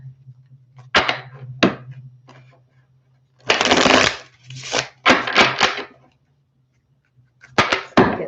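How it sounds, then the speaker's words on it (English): Tarot cards being shuffled by hand: repeated bursts of riffling and rustling, some long and some brief, close and fairly loud over a low steady hum, with short pauses between shuffles. "Some good shuffles going."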